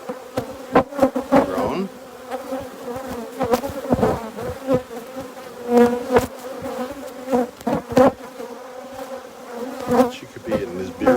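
Dense honey bee buzzing surrounds an open hive at close range, loud and continuous, with individual bees zipping past the microphone and brief knocks of hive frames, while a person speaks a word.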